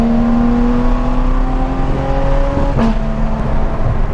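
Inside a Porsche 991.2 GT3 RS on the road, a steady close engine drone with a slight pitch shift near the end, continuous and without talk.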